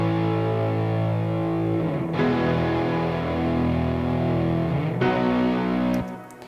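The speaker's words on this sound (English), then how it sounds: "So the piano and the power chords layered together sounds like this." Piano layered with distorted power-chord electric guitars in a folk-rock arrangement, dense sustained chords changing a few times, loud and full, fading out at the end with no voices.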